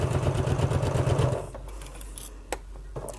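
Sewing machine stitching a bag, a rapid close rattle of needle strokes lasting about a second and a half before stopping, followed by quiet handling clicks.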